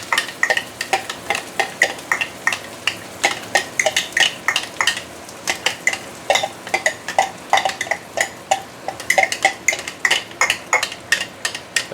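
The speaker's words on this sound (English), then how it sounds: "Actually, the oil started to splatter because of the dried shrimp." Dried shrimp frying for crispy chili crackle and spit in hot oil, with rapid irregular bursts of splatter pops throughout, close and fairly loud, with no talking.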